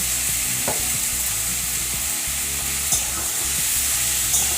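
Sponge gourd is stirred into spiced oil in a pan, giving a continuous close sizzle with a few soft scrapes and knocks of the spoon.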